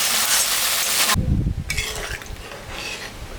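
Spice paste for a fish curry with potato sizzles in a pan: a bright hiss, then clattering stirring and scraping of a utensil against the pan, fairly close and with no talk.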